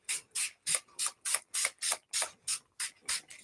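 A tea spray bottle mists onto paper for a mixed media collage background, eleven quick, evenly spaced hissing squirts close by with brief silences between them.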